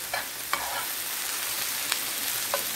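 Onion and carrot fry in rendered lard, giving a dense, even sizzle up close, with a few brief spoon scrapes and knocks against the pan.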